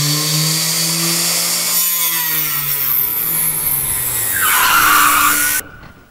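A new table saw cuts pine: a steady high whine with falling tones, rising into a louder harsh rasp as the blade bites the wood, then cutting off abruptly at the end.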